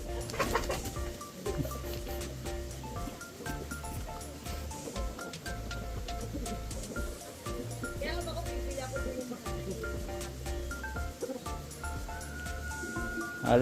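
Chickens squabble and cluck at a restaurant and garden resort in Lucban, set against a dense, busy background with steady noise throughout.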